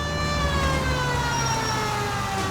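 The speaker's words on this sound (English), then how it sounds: "Cole, turn on the siren and pull her over." Police car siren in the video game LA Noire, a loud steady wailing tone with slowly shifting pitch over an engine rumble, continuous and close.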